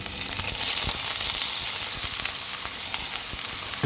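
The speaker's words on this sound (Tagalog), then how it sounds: "Lagay ko na yung mussel meat." Frozen mussel meat fries with ginger in a pan for moringa soup, a loud continuous sizzle with crackling pops and occasional stirring clicks, heard up close with no talking.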